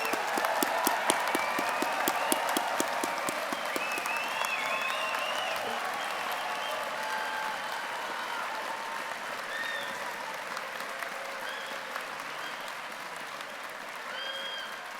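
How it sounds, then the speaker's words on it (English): Graduates at the University of Calgary fall convocation ceremony receive a sustained round of applause from the hall, dense steady clapping that fills the whole stretch with a few cheers over it. "Let's give them one last round of applause."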